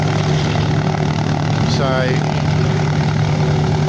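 Lockheed Hudson aircraft engines power up at an air show in Edinburgh, South Australia, a steady loud droning roar filling the clip while a voice speaks briefly over it.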